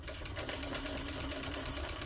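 A sewing machine runs continuously at an even, rapid pace, basting stitches on a fabric hip bag. The close, steady mechanical chatter carries on without a break and no one speaks.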